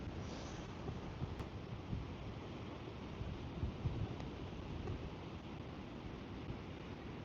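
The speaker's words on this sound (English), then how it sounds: "I don't think any amount of wind filter is going to get rid of all the wind noise" Steady, heavy wind in 30-mile-an-hour gusts buffeting a microphone at a pond, a dense low rumble with gusty swells and no voices.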